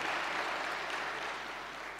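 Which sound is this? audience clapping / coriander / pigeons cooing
audience clapping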